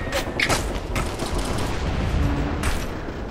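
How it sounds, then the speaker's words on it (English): Heavy sustained gunfire fills a combat scene in Operation Flashpoint: Red River as an APC engages the squad, a dense, loud, continuous rattle of shots and blasts without any speech. "We're under fire."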